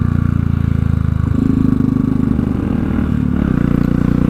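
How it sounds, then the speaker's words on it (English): Royal Enfield Classic 500 motorcycle engine thumping along while riding, a close, loud, steady low throb with mechanical clatter that rises slightly partway through, no talking. "Listen to that motor."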